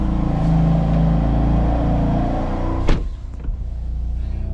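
Loud car engine rumbling steadily close by, with a sharp knock or thump near the end before the drone settles back to a lower idle.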